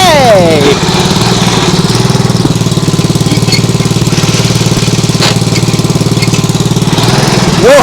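Nibbi G619 walk-behind tractor engine running steadily with a loud, close, rapid putter and rattle; a brief rising whine at the start as the clutch engages.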